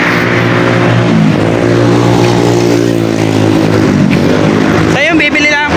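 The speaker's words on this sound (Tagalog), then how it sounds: "Medyo maingay na po kasi maraming jeep." Heavy, continuous road traffic on a Batangas road crowded with jeepneys, loud engine drone and passing vehicles filling the whole stretch, with a brief higher whine near the end.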